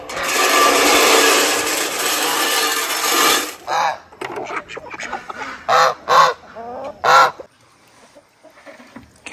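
A goose gives several short, loud honks in separate bursts, coming after a long stretch of harsh scraping or rubbing noise, with quieter rustling between calls.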